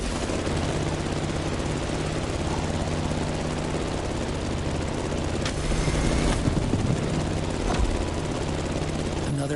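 A plane engine in The Crew Motorfest racing game drones as a loud, steady roar throughout, with brief whooshing swells partway through and no speech.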